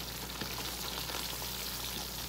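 Raw carrots frying in a hot pan for vegetable pasta, a dense, even sizzle with faint crackles throughout, no talking.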